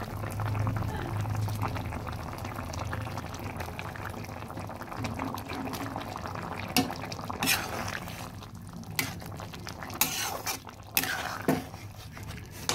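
Fish curry with potatoes bubbling steadily in a pot, a soft continuous boil with occasional louder clinks and splashes as fish pieces go in.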